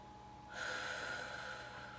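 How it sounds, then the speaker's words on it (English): A single slow, relaxed breath drawn in during a calming exercise, with a soft, airy hiss that swells and then holds steadily for over a second. It is heard close and alone against quiet room tone. "Just breathing."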